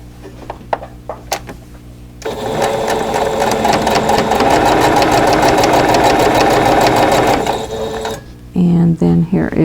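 A sewing machine runs steadily for about six seconds, stitching quilt block pieces together with a dense, continuous mechanical whir, bracketed by a few light handling clicks before and a short burst of hum after.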